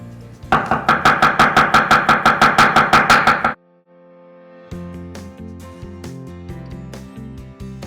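A knife finely chopping a red onion on a board, about fifteen rapid, even, crisp strikes in a steady rhythm, then a short pause before slower, lighter cuts resume up close.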